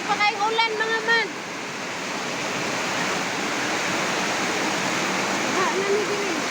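Heavy rain pours in a steady, dense roar during flooding, with a brief burst of speech at the start and a faint voice near the end.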